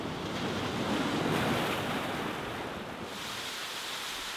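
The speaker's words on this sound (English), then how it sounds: "And here we have a cave behind a waterfall." Water rushing from a waterfall over a cave in the basalt sea cliffs of the south coast of the Isle of Mull, a steady broad roar mixed with wind buffeting, continuous and moderately loud, with no speech.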